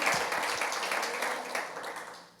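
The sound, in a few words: congregation applauding to glorify God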